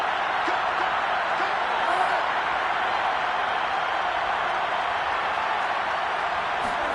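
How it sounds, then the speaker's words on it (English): A football stadium crowd roars continuously during a game, a dense, loud wash of cheering voices with no breaks. "Listen to this crowd now."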